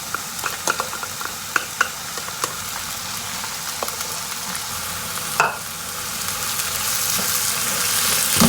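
Onions and potatoes fry steadily in a pan while tomatoes are added and stirred in. Scattered spoon taps sound over the sizzle, which grows louder toward the end.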